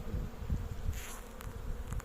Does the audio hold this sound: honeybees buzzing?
yes